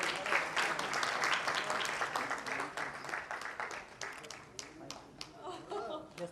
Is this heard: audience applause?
yes